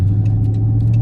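A steady, throaty Dodge Charger Pursuit engine idles close by with its muffler removed, its deep rumble continuous and loud with a few faint higher clicks on top.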